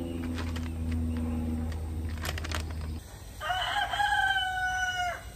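A rooster crows once, loud and close, in a drawn-out call over a steady low background hum in a garden setting.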